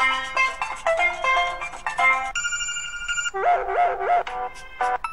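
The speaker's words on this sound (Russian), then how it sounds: "Все как всегда, собственно, и набор мелодий тоже как на голом андроиде." Stock Android ringtone melodies chime from a cheap IPRO Wave 4.0 smartphone speaker, bright bell-like tones in quick repeating phrases that switch between several different tunes, loud and close with no talking.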